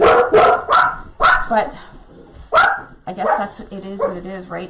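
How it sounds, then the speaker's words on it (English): Dogs bark in short bursts close by, several sharp yaps early on and another burst midway, mixed in with someone talking over them. "sorry about the dogs."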